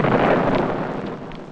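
A sonic boom from a Lockheed F-104A Starfighter jet in 1959, heard as a loud, broad rumbling blast that sustains and slowly fades over about a second and a half, with no voices.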